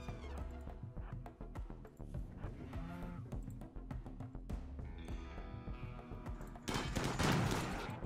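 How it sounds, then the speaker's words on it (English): Automated turrets in Rimworld fire rapid, sharp bursts of shots in quick irregular volleys, fairly close and steady, ending in a louder, dense flurry of impacts. "Those turrets do so much damage."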